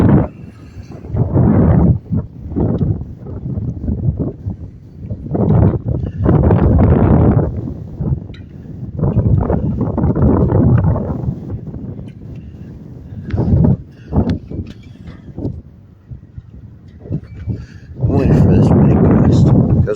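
High winds gusting around 40 to 50 during a December squall with a flash freeze, roaring in repeated loud, broadband blasts close to the microphone, with people talking in between and over the gusts.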